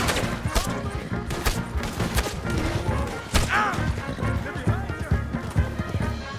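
Gunfire in the Red Dead Redemption 2 video game on PS4, loud repeated shots and bursts over horse hooves, shouting and dense game music, with crashes mixed in.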